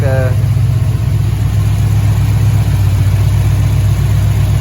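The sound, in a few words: car engine idle surging up and down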